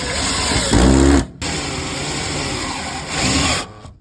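A cordless drill drives screws into a single-phase electrical switchboard in two short whirring bursts, close and loud, separated by a brief pause and ambient room noise.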